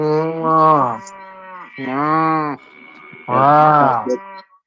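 Cow moo sound effect of the CoW Swap crypto exchange, three loud drawn-out moos close by, with short pauses between them and no talk.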